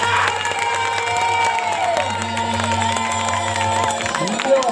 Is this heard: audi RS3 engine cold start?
no